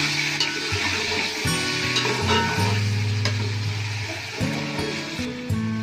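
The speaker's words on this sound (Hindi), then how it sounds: "अब हम इसमें ऐड करेंगे टमाटो। थोड़ा इसे भी फ्राई करेंगे।" Onion and tomato fry in a pan with a steady, close sizzle, while stirring clatters over it in an uneven rhythm.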